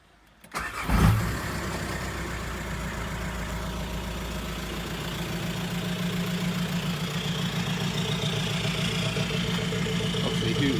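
A swapped-in T5 engine in a PD130 car with a pre-primed pump, cranking briefly and catching within a couple of seconds, then settling into a loud, steady idle close by.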